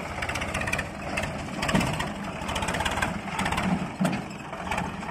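A tractor engine runs a soil-loading machine, a mid-to-low diesel chug with a steady pulsing rhythm and occasional louder clanks and bursts, moderately close, with no talk.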